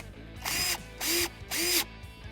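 A screw is driven back into a Bestop Supertop soft top bow on a 1997-2006 Jeep Wrangler TJ with a power driver, three short whirring bursts in quick succession, close and fairly loud.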